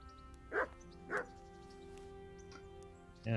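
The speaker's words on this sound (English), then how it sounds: "Yeah, dog, I do hear you." Three short, faint barks from a dog at a distance in the video game Kingdom Come: Deliverance, evenly spaced over a steady low hum with no talking.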